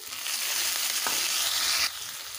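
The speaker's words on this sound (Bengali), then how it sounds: "টমেটোগুলোকে ভালোভাবে ভেজে নেব।" Chopped tomatoes fry in a pan, giving a dense steady sizzle up close with a soft scrape of stirring midway, then the hiss dropping slightly near the end; no one speaks.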